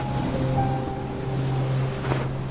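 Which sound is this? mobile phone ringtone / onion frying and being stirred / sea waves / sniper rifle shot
sea waves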